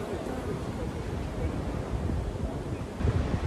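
Sea surf rolls along the Busan coast under steady wind buffeting the microphone, a continuous low wash that swells slightly near the end, with no talk over it.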